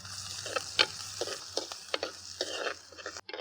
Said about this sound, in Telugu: ఉల్లిపాయ ముక్కలు ఇలాగా లైట్గా దోరగా వేగినాక